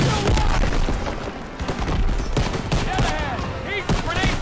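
Heavy gun emplacement in a Call of Duty WW2 battle firing rapid bursts of loud, dense gunfire with booming impacts throughout, a voice speaking over the barrage.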